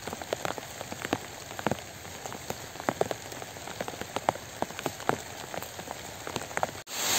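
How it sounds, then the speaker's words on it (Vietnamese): Heavy rain pours down steadily outdoors during a freshwater fishing trip for tilapia and climbing perch, a dense hiss of drops with sharper spattering hits on surfaces throughout, close and loud with no one speaking. "mưa quá trời lớn luôn các bạn ơi"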